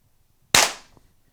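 A single sharp shot from a Mercury Rise MUB50 pepper ball launcher, close and loud with a crisp crack that decays quickly into quiet.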